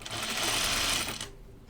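A sewing machine runs a short burst stitching a quarter-inch seam, a close, fast mechanical whir that stops abruptly after about a second.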